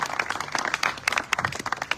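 An audience at a devotional religious gathering claps, a dense patter of many hands, moderately loud and lasting about two seconds with no talk over it.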